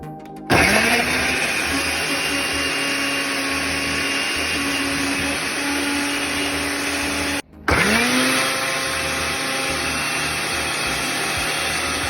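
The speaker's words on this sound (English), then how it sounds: "you can start your blender like I did" A blender blending aloe vera whirs loudly, spinning up sharply, running steadily, cutting out briefly, then roaring back on at full speed.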